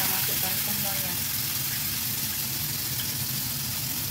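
Spice paste frying in hot oil in a wok for a spiced soy-sauce mackerel dish, giving a loud, steady, dense sizzle that holds evenly from start to finish.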